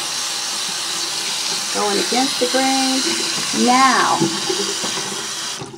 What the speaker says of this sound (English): Rinse it in hot water